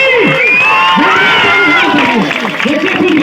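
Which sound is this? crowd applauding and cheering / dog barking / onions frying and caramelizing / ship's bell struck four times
crowd applauding and cheering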